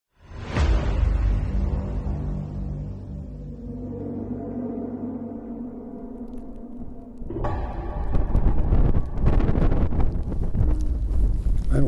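Loud, steady wind roars and buffets the microphone throughout, growing rougher and gustier toward the end, in high mountain country during a mule deer hunt in Utah.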